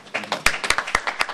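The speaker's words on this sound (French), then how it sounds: "Il faut l'applaudir." Sharp, distinct claps from a summit audience at the Hotel Méridien in Paris ring out in a loose rhythm, about a dozen in a second, with voices murmuring underneath.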